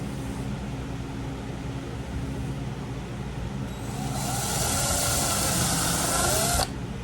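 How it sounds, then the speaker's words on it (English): A power drill bores pre-drilled holes through a Kydex sheet, its high whine rising loud from about four seconds and cutting off sharply near the end, over steady low workshop hum. "Drill the holes on this one."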